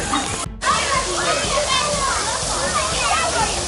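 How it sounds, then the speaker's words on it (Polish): Water rushes and splashes steadily onto a person at a campground, a continuous close sloshing spray that briefly cuts out near the start, with excited voices over it. "Woda na mnie leci w tą stronę"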